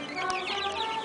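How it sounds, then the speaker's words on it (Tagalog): Chickens clucking close by on a farm, a short burst of several overlapping clucks with a brief louder squawk, steady and fairly loud. "Ito yung anak ng inahin ni Dudong"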